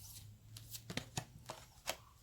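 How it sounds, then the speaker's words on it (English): Tarot cards are shuffled by hand in quiet, close bursts of riffling and soft slaps, several irregular flicks in quick succession over a hushed background. "I shuffle all these down."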